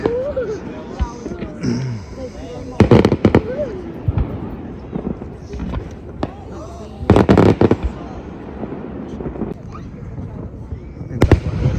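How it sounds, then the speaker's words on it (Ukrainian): Fireworks for the American Independence Day crackle and pop in scattered bursts, some close and sharp, while someone talks over them and a crowd murmurs in the background. "Так вже цей фейерверк стріляє хвилин 15"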